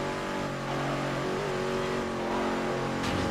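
Car engine revving hard in Midnight Club 3: DUB Edition Remix, a loud, sustained droning roar with shifting pitch throughout and no voices.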